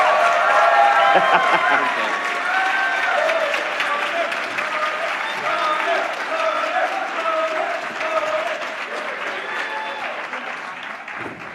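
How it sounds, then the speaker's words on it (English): A warm round of applause from a live audience greets Alex O'Connor at a debate event, steady dense clapping that slowly thins over several seconds while a voice speaks over it. "ladies and gentlemen, warm round of applause for Alex"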